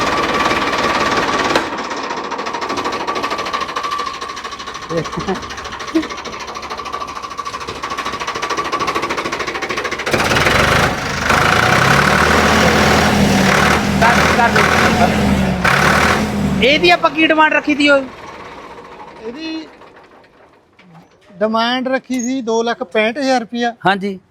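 A Mahindra tractor's engine, started on its self-starter, runs with a loud, steady diesel drone that shifts into a rougher throb midway, then voices talk near the end as the engine fades.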